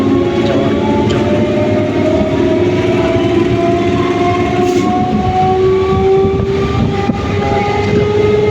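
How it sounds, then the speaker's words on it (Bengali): A train pulls out of a station bound for Barmatuli, with a loud steady rumble of wheels on rails and drawn-out tonal whines that rise slowly as it gathers speed, a close and continuous sound with no talk. "ট্রেনটি ছেড়ে দিয়েছে বরমটুলি স্টেশন যাওয়ার জন্য"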